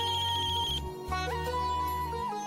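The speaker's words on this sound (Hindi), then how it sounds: "फोन बज रहा है आपका।" A telephone ringtone plays loud and close, a steady electronic melody with a short break partway through, heard alone without voices.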